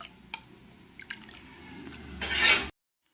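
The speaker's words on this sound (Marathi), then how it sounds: "आणि आता इकडं त्याच्यामध्ये रस्सा वाढवायचा बरं का एवढं पाणी आता एवढं वाढवलं" Water is poured into mutton gravy in an iron wok, starting with faint drips and splashes, then swelling into a brief, close rushing pour before cutting off abruptly.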